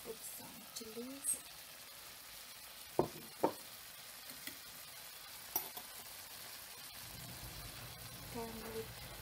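Chilies fry in a pan for an egg curry, a low faint sizzle with a few sharp clinks and scrapes of stirring, while a voice speaks briefly in the background.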